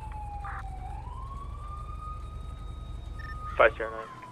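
A siren wails in a slow rising and falling tone throughout, moderately loud, with a steady low engine rumble underneath and a brief burst of talk near the end.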